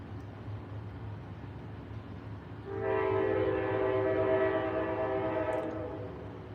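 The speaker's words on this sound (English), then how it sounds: "that train conductor loves that horn" A passing train at tracks with no crossing gates sounds a long, loud, steady horn blast that swells in and holds for several seconds over a low rumble.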